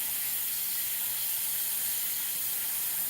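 Steady broadband hiss of an airbrush blowing air to dry freshly sprayed green acrylic paint on a stretched canvas, continuous and even throughout with no voices.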